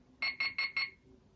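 A bright electronic alarm on a talking clock beeps four times in quick succession, a short, clear tone repeated evenly, then stops.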